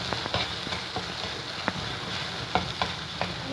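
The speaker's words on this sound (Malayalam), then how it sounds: "നമ്മൾ എണ്ണയൊക്കെ നല്ല തെളിഞ്ഞ് വരുന്നവരെ നമ്മൾ നല്ലോണം ഇളക്കി കൊടുക്കണം" Vindaloo masala sautéing in hot oil for chicken vindaloo, a steady close sizzle broken by scattered clicks and scrapes of a spoon stirring the pan, with no voices.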